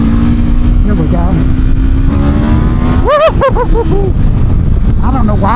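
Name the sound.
Aprilia RSV4 1100 Factory motorcycle being ridden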